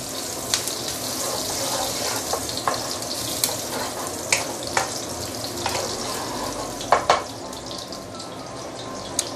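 Prawn shells and ginger fry in very hot vegetable oil in a wok, a steady dense sizzle with sharp spits and crackles popping through, close and loud with no voices.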